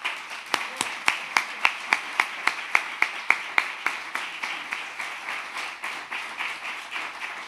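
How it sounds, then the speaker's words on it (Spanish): Rhythmic clapping from a small group at an awards ceremony in a rural hotel, sharp and evenly spaced, starting crisp and gradually softening into looser applause. "un fuerte aplauso para ellas"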